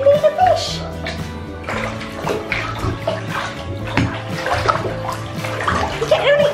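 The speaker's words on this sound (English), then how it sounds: "Careful, don't splash too much." Water sloshes and splashes in a bathtub as a small child plays in it. The splashing continues throughout, with a few bright vocal squeals and some voices over the top.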